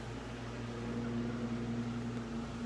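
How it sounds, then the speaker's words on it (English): School lawnmowers running next door make a steady mechanical engine drone with a constant low hum and a sustained tone that holds throughout, moderately loud and unbroken. "school lawnmowers are going"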